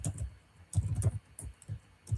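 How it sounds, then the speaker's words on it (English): Typing on a computer keyboard while entering data into a spreadsheet cell, a brief run of soft, close key taps in an uneven rhythm, with no talking. "so I just click on it once and I start typing"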